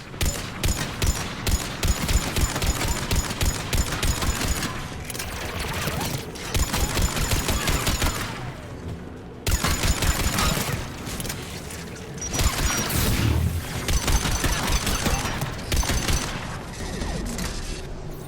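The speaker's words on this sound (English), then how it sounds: "AA guns ahead of us." Rapid, repeated bursts of AA gun fire in Mass Effect 3, loud and close, forming dense mechanical volleys that pause briefly and then resume over a steady rumbling backdrop.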